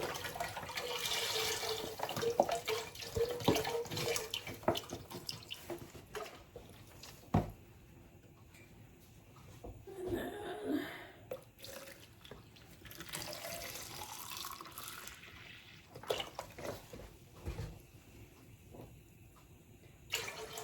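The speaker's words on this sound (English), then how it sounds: "So we're going to squeeze all this one in, and then I just need 2 cups out of the next one." Chicken broth for an Italian meatball soup is squeezed from a carton into a pot, pouring and splashing in uneven bursts with gurgles and drips, fairly close and moderately quiet, with no talking.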